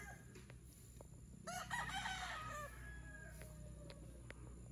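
A Kelso gamefowl rooster crows once, fairly distant and faint, its call rising and trailing off over a low background murmur, with a few soft clucks around it.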